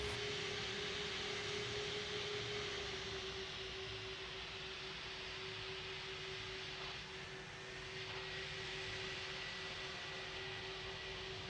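A jet airliner takes off in the Roblox flight game Pilot Training Flight Simulator (PTFS), its engine roar sustained and steady with a constant whine throughout, close and loud from start to finish.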